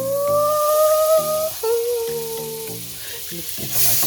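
Butter melting and sizzling in a pan for popcorn, a steady close frying hiss with a faint tonal whine and hum running beneath it.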